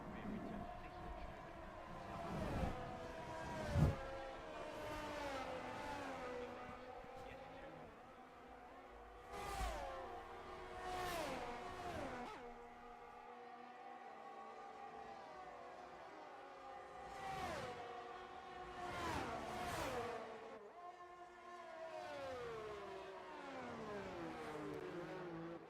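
Race cars circle a track in Japan during a Flashpoint sim-racing event, engines whining and revving up and down as several cars pass one after another at moderate distance.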